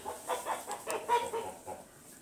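Chickens cluck and murmur softly in a backyard coop at night after being disturbed by a flashlight, giving a series of close, uneven bursts of agitated clucking, with no talk.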